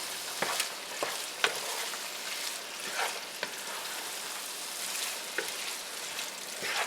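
Black bean mixture is stirred in a hot pan for a weeknight stuffed Mexican cornbread, with a steady close sizzle and repeated scraping clicks of the utensil against the pan.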